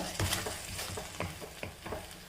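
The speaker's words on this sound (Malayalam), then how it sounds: "ഞാനിപ്പോൾ ഇതിനകത്തോട്ട് ഒരു സക്കല അഞ്ചാറ് ഉണക്ക മുന്തിരിയും കൂടെ ഒന്ന് ചേർത്ത് കൊടുത്തിട്ടുണ്ട്" A small handful of raisins frying in ghee in a pan, with a steady soft sizzle broken by a few clinks and scrapes of stirring, close by and fairly quiet.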